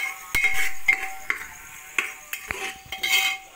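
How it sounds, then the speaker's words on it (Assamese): A spoon stirs whole spices in a cooker, scraping and clinking against the metal pot in short, irregular strokes. A soft sizzle runs underneath, and no one speaks. "এতিয়া এতিয়া লৰাই দিম ধুনীয়াকৈ"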